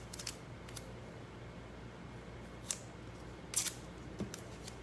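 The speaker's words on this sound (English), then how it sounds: "You can use scissors too to kind of cut your," Quiet, sparse snips of scissors cutting, a few sharp clicks scattered over a low steady hum.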